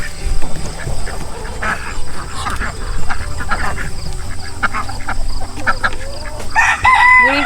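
Chickens cluck and a rooster crows near a homestead coop, with birds calling steadily throughout and a brighter crow near the end, under a constant outdoor background.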